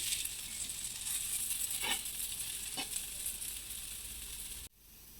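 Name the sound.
moong dal dosa sizzling on a pan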